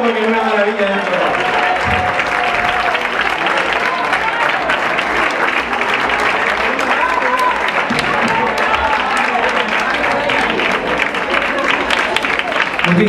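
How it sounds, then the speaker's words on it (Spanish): A concert audience bursts into loud, sustained applause for a big band performance, dense clapping filling the space at full strength from start to finish, with crowd voices mixed into the wash. "Un fuerte aplauso"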